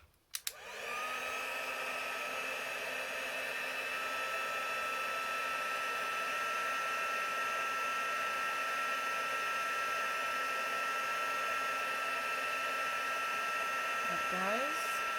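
A heat tool used for heat embossing on a stamped card starts with a click, then blows a steady, loud whirring stream of hot air close to the microphone for about fourteen seconds before switching off.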